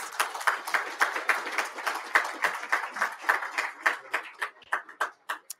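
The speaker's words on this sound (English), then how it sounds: "Please give our sponsors a big round of applause" An audience at a military association's coffee-series talk applauds its sponsors, the dense clapping thinning into scattered individual claps before fading out.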